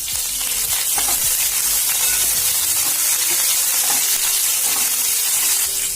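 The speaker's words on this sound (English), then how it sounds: "Add the jeera. Add the green chillies. Add the curry patta." Cumin seeds, green chillies and curry leaves fry in hot oil in a pan for pumpkin sabzi. A loud, steady sizzle and crackle fills the whole stretch with no talking.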